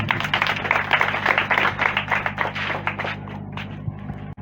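An audience at the official handover ceremony of a three-classroom school building applauds the deputy mayor, with brisk, close clapping that gradually thins and fades out near the end.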